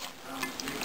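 Ingredients stirred into Jamaican oxtail in a pot make a steady, close scraping and mixing noise with a faint sizzle, lasting under a second.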